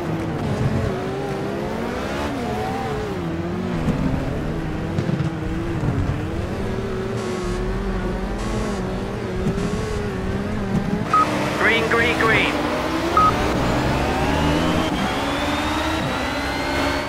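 LMP1 race car engines roar together at a race start at Spa in Project CARS, a loud sustained whine with rising and falling revs and gear shifts, heard under a talking voice.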